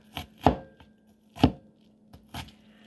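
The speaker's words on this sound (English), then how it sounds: "This is kind of a big chore today, cutting these onions" A knife chops onions on a cutting board, giving four distinct, separate thuds spaced about a second apart, close and clear against a quiet background.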